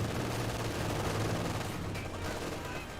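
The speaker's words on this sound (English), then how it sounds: "MG34 trying to hit these squads." MG34 machine gun fire in the Company of Heroes 2 real-time strategy game, a dense continuous battle din with steady gunfire and battlefield noise throughout, loud and unbroken.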